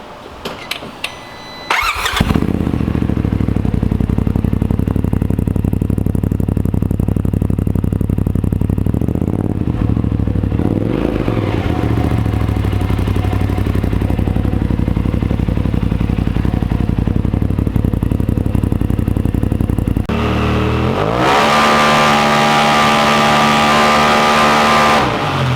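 A Polaris RZR Pro engine on a dyno starts and then revs loudly and steadily, with rising and falling sweeps, a brief dip, and a final higher-pitched climb; a gas-tuned machine is running on the test rig.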